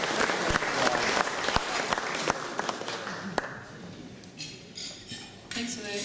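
An audience at a New Zealand scholar's talk applauds as the speaker is welcomed. Dense clapping fills the room at first, then thins to scattered claps and fades as a voice begins speaking.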